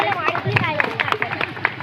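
An audience in an Independence Day honouring ceremony at Anand Sahyog Mandal claps in a quick, scattered patter of individual hand claps, fairly near, with voices murmuring underneath.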